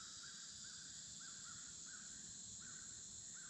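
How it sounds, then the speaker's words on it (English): Crows caw in a steady repeated series, six or so calls spaced about half a second apart, over a constant high insect drone by a river on a late afternoon at a kayak camp. "Some crows and the cicada."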